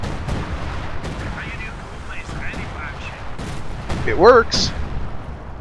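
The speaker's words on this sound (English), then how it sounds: "Assault artillery. That's what that is." Assault artillery firing in Company of Heroes 2, with a few sharp booming shots and thuds in the game mix, a louder burst near the end, while someone talks over the battle sounds.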